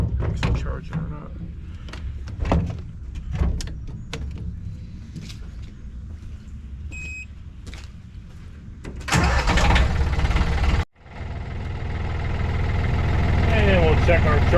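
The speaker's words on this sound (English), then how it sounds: "Put the booster on it, give it a jump, get it running." Yanmar track dumper engine turning over and catching after a jump start, first a few rough cranking bursts under talk, then a sudden loud start that settles into a steady, close diesel run.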